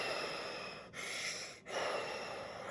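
A firefighter breathes through an oxygen mask fed from a tank, steady hissing airflow broken by two short pauses, close and fairly loud.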